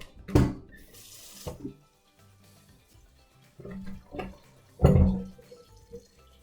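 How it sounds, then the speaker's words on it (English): Water from a kitchen tap runs into a cooking pot in uneven bursts, close and clear, with quieter pauses and clatter between the flows. "fill it up with water."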